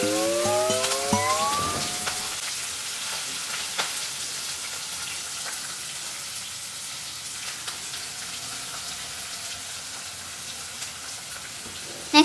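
Onions frying in a pan give a steady, fairly quiet sizzle that runs throughout, with a brief tonal sound near the start and a sharp click at the very end.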